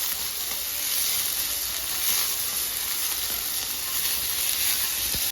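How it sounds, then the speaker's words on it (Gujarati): Onions fry in a pan with whole cloves and black peppercorns for a lentil pulao, producing a steady, even hiss of sizzling oil that stays close and unbroken throughout. "ડુંગળીને હવે બરાબર આપણે આમાં શેકાવા દઈશું"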